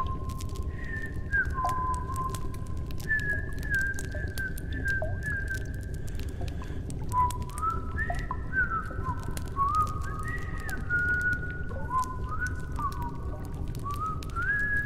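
Birds in the video game Indika trill and whistle in a melodic series of clear, sliding tones, repeated phrases rising and falling over a low steady background rumble.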